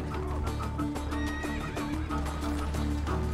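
Horse neighing in the Assassin's Creed Brotherhood video game, a loud whinny with hoof clip-clop amid game ambience, no speech over it.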